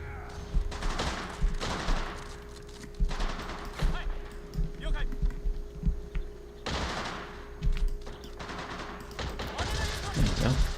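Machine gun squad firing in Men of War, with repeated bursts of automatic gunfire and scattered shots across a busy battlefield, sounding fairly close and loud, with a steady hum underneath.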